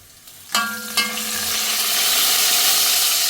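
Onions and shallots hit hot oil in a pan with two sharp sizzling bursts, then settle into a steady, close, broadband frying hiss that grows slightly louder and continues alone.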